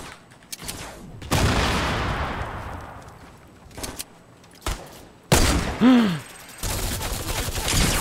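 Bursts of rapid video-game gunfire in Fortnite crackle in quick volleys, with sharp single shots and a sweeping whoosh, separated by short gaps of quiet.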